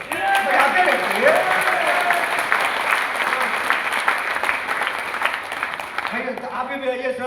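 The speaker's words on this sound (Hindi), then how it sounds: "ताली बजाते रहिएगा आप लोग, बजाते रहिए" A seminar audience claps steadily in a hall in Bhilwara, with sustained applause running under a voice that talks over it, and the clapping thins out near the end.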